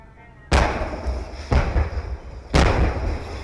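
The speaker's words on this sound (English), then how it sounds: "Those explosions are what Topeka police call distractionary devices" Three heavy booming blasts from police distraction devices during an armed standoff at a house, each sudden and loud with a rumbling tail, spaced about a second apart.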